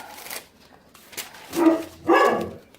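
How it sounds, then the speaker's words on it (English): Dogs bark at a door in a home kitchen, two loud bursts of barking close by after a quieter opening stretch. "They go and stand by the door and bark, and there's nobody there."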